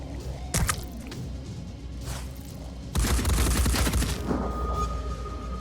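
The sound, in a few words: virus Arthrin gun firing in Phoenix Point video game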